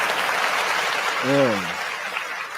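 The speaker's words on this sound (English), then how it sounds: "I don't know what the applause was for, but appreciate it." Steady audience applause fills the background throughout, with a single voice rising briefly over it partway through.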